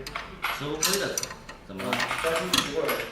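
A ratcheting wrench works on the exhaust bolts of a Harley-Davidson Softail, fitted with a Danmoto Highwayman full exhaust. There are short bursts of mechanical clicking, close by, with a voice speaking over them.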